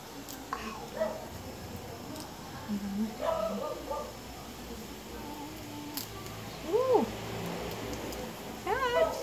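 A cat meows several times at moderate distance, short rising and falling calls scattered across a quiet kitchen scene, with a person occasionally murmuring softly between them.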